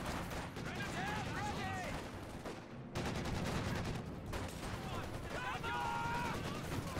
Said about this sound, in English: Machine gun flak up around the conscripts there.